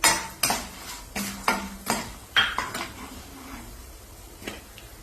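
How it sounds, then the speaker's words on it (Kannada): Metal spoon clinking and scraping in a pan, with faint sizzling, as cumin seeds are dropped into hot oil for tempering. Several sharp taps in the first half, then the sound fades to a soft sizzle. "ಈಗ ಇದಕ್ಕೆ ಒಂದು ಸಣ್ಣ ಸ್ಪೂನ್ ಹಿಂಗ್ ಜೀರಿಗೆ ಹಾಕೋತಾ ಇದ್ದೀನಿ."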